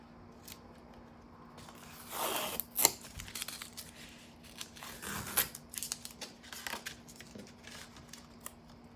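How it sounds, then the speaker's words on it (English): Tape is peeled off the paper border of an ink and watercolor daffodil painting in a few quiet, brief rasping strips, close and alone in a still room. "now I'm going to take off the tape"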